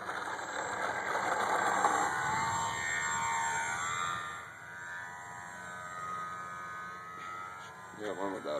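An Alpha 450 Sport RC airplane's electric motor runs at full throttle, a steady whining buzz that sweeps in pitch as the plane passes near and away, with people talking over it.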